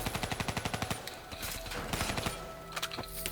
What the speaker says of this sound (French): Concentrez vos tirs sur les tours de refroidissement autour de Diaz